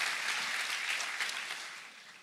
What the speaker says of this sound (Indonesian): Yang percaya berikan tepuk tangan buat Allah kita.